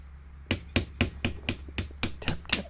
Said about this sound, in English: Just give it a little tappy.